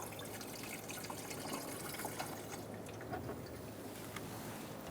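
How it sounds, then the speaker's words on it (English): Washer fluid being poured into the windshield washer reservoir of a 2014-2019 Kia Soul, a soft continuous trickle of liquid, faint and steady throughout with no talk. "Take your cap off and fill it up. You can fill it all the way up to the top."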